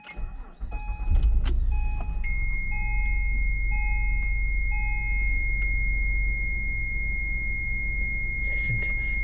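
A Honda Legend's V6 engine turns over and settles into a steady idle in a driveway, a close continuous rumble, with thin electronic beeps and a steady tone sounding over it.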